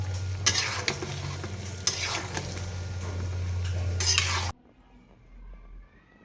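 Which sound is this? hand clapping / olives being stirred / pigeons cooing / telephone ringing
olives being stirred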